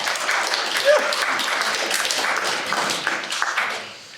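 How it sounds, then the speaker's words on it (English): An audience at an international film festival event applauds, a moderate wash of clapping that fades gradually, with voices heard briefly over it. "Give a little round of applause for the technique."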